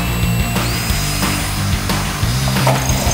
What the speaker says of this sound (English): let's go ahead and drill this hole out for our clock brain that goes on the back